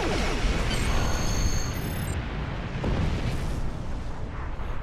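A ship blows up in a Star Trek Online space battle against Klingon birds of prey: a deep, rumbling explosion with crackling bursts, loud at first and tapering into a long rolling boom.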